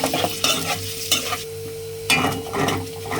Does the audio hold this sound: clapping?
no